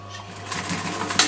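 A sewing machine finishes the seam of a double-piped chair cushion with a steady close-up whir over a low constant hum, rising slightly toward the end.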